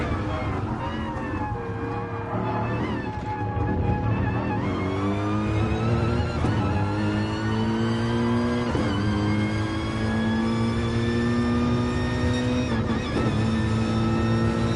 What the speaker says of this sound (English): You can just hear the revs drop just for a second